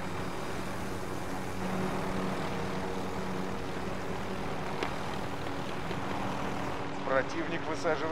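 A helicopter in Call of Duty Warzone drones with a steady rotor and engine wash that fills the whole clip, with a few sharp in-game effects near the end.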